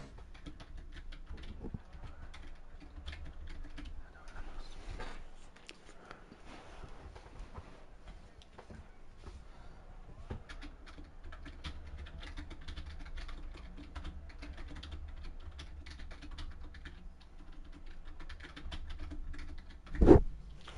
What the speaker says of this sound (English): Apologies if you can hear the hopefully not too aggressive typing there as we reset.